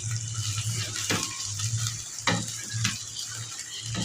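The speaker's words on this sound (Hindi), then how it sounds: "चिकन शामिल करने के बाद इसको भूनते हैं थोड़ा सा, ताकि चिकन का कलर थोड़ा सा बदल जाए ऑयल के साथ।" Chicken frying in oil in a pan for a chicken karela dish, with a steady soft sizzle, a low hum beneath it and a few sharper clatters from stirring, close by and with no talk.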